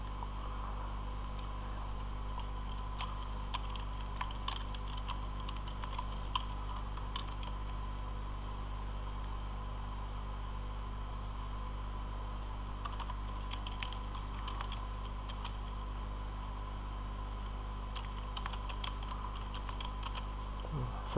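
Steady typing on a computer keyboard while entering text in a design program, with irregular bursts of light key clicks over a constant electrical hum, close and fairly quiet, with no voice.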